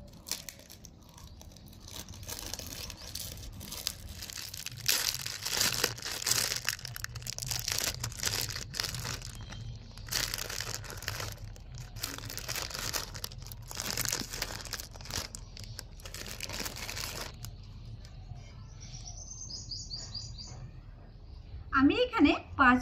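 Sliced bread being pulled from a crinkly plastic packet, with close, repeated rustling and crackling of the wrapper in bursts, and a voice speaking over parts of it.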